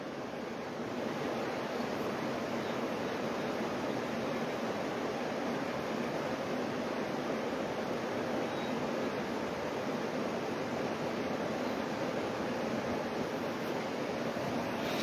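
Water of the Chenab River rushing through open gates at the Salal Dam, a steady, loud, broadband roar of flowing water that fills the whole stretch without a break, with no voices over it.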